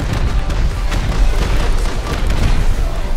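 Loud, continuous rumbling blast from a rocket explosion destroying a turret in a video game raid, with a heavy low boom that rolls on for several seconds and no pause.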